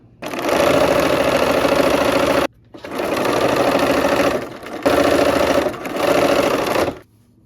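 A sewing machine stitches quilt pieces for an autumn-themed block in four loud, close bursts of rapid whirring, separated by brief pauses.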